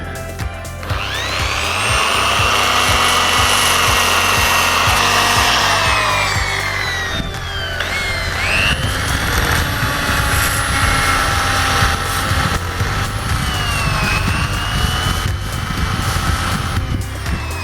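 Polishing a Kawasaki Z750 motorcycle mag wheel in a garage with a power tool, a loud whining, rising and falling grinding drone with shifting pitch as the tool works the metal.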